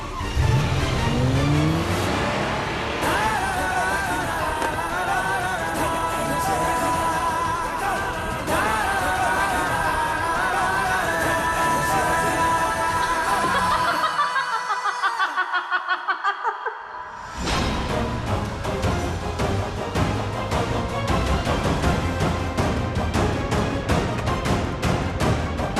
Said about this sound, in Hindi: तू गाड़ी चला।